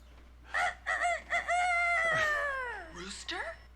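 A rooster crows nearby in a loud, full cock-a-doodle-doo with several clipped opening notes and a long drawn-out falling final note, standing alone without talk.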